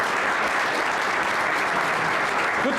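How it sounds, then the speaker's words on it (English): Audience at a 2018 gubernatorial candidate forum applauds to welcome candidate J.B. Pritzker, a dense, steady burst of many hands clapping that fills the room without pause. "Let's give him a round of applause."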